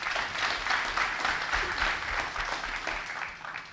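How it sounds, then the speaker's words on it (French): An audience applauds steadily at a youth debate semifinal in Guinea, a full room of clapping sustained throughout with faint crowd murmur beneath. "Est-ce qu'on peut applaudir pour eux, s'il vous plaît?"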